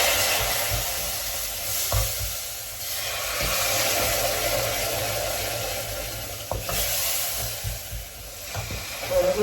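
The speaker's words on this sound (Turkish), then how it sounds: "hızlı hızlı elde elde karıştırmak bunda önemli" Sugar syrup, slightly warm after brief heating, is stirred quickly by hand in a pot, giving a steady hissing, swishing scrape with faint clinks, close and moderately quiet, with no talk.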